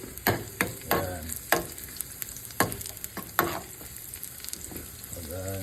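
Garlic frying in a pan, a soft sizzle broken by a series of sharp stirring clanks and scrapes spaced irregularly, fairly quiet and close.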